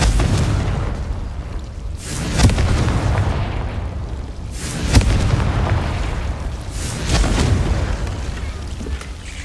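Confringo blasting spell explosions in the video game Hogwarts Legacy: several booming blasts go off at intervals of roughly two to three seconds over a continuous rumbling background.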